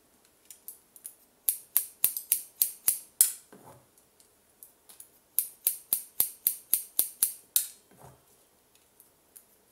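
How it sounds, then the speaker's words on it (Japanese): Scissors snip through a man's hair during a men's haircut, crisp rapid clicks in two quick bursts, close and clear in an otherwise quiet room. "ここもちょっと前下がり気味にハサミの切り口をちょっとずらしてこういう感じで入れてます"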